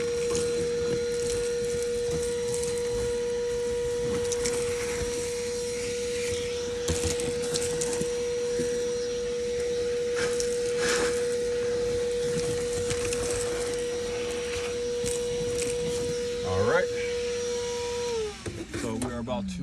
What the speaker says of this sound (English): Shop vac. So let's get back to vacuum.